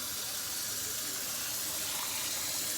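Tap water runs steadily into a pot to cover peppers for boiling while Mexican dishes are cooked, a continuous bright rushing hiss for the whole stretch, close and alone.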